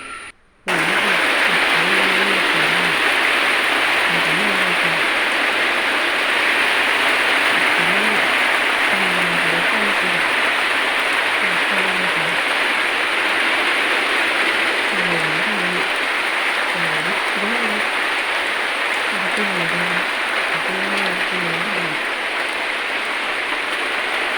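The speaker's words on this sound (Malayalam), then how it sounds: "മഴ കൂടി വരേണ്ടിട്ടാണ്. നല്ല മഴയായി." Heavy rain falls in a steady, loud, unbroken roar that fills the whole stretch, with a faint low rhythmic pattern running beneath it.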